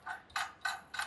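A ratchet wrench loosens a big bolt on a snowbike's front ski mount, three quick, quiet clicking strokes in a steady rhythm, close up with no talk.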